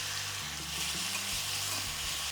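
Crushed green chili paste made from four or five chilies, with mustard seeds and asafoetida, sizzles in hot oil in a pan: a steady, close hiss throughout with a slight lift at the very end and no talking.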